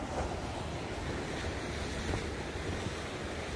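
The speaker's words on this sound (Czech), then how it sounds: "Dosáhli jsme moře." Sea surf washing steadily against the shore, a continuous broadband wash with wind buffeting the microphone, fairly close and constant, with no talking.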